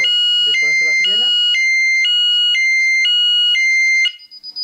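A Satel SP4004 alarm siren wails loudly and steadily, switching between two piercing tones about every half second. A person talks briefly under it at the start, and the siren breaks off near the end.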